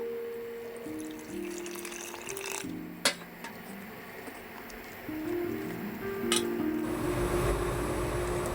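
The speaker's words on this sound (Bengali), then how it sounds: "এবার আমি জল দিয়ে দেবো এটার মধ্যে।" Water pours into a bowl of beguni batter made with red chili and baking soda, a steady close splashing stream with tonal shifts as the bowl fills, a couple of sharp knocks breaking in midway.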